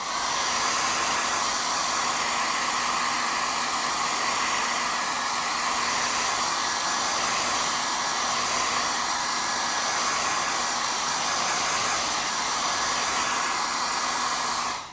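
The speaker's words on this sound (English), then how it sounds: "Give it a quick dry with the hairdryer." A hair dryer blows with a constant, loud whooshing hum that runs unbroken from start to finish, drying colour applied to scuffed leather.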